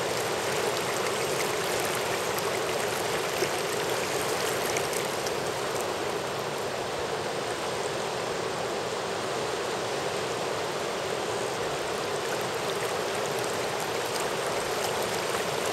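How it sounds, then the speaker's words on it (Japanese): Fast river current at Naptown Rapid roars in a dense, unbroken wash of rushing water, loud and constant throughout with no voices. "こういう川の流れ方はなかなか日本ではしないよね。"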